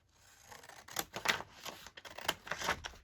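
Scissors snipping paper for a handmade journal trifold: several crisp, close cuts in an uneven rhythm over a few seconds, quiet overall with no voices.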